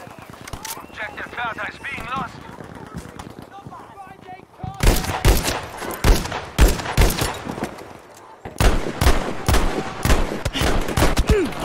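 Video game gunfire crackles in dense, rapid bursts and single shots, loud and close, with brief lulls between volleys.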